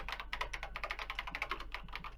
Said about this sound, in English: she recovered just as fast and quickly began typing